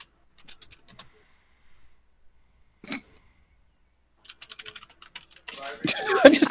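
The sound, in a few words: computer keyboard typing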